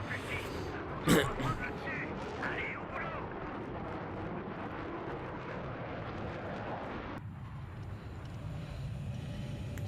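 In the Battlefield 3 video game, an aircraft comes under anti-aircraft fire, heard as a dense roar of engine noise and explosive bursts with a sharp blast early on, continuing under speech.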